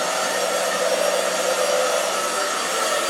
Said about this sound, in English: Old hairdryer.